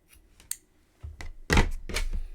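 Scissors snipping crochet yarn while finishing a tomato pin cushion, a few short crisp clicks followed by louder close thumps of the scissors being handled and set down, with no talking.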